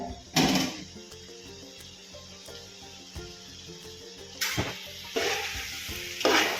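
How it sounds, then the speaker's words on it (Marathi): Mixed vegetables for veg pulao frying in a pan and stirred, with repeated bursts of sizzling and scraping over a low steady hiss, louder near the start and again toward the end. "पाच मिनिटानंतर आपण थोडा मोठा गॅस करून आपण काढून बघावे"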